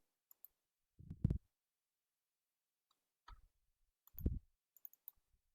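Computer mouse clicks while setting up an app ID request in a Postman API testing session, heard as a few sharp, close clicks spread across a quiet stretch, with two small clusters and faint isolated ticks between.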